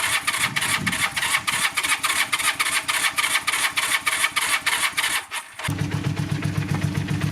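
A Honda CB400N motorbike, left sitting outdoors for about fifteen years, cranks over in a rapid, loud repetitive churn that cuts out briefly, then catches and settles into a steady, close running engine.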